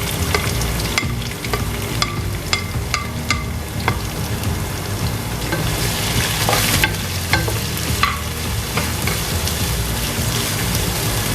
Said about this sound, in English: Let's saute the veggies really well.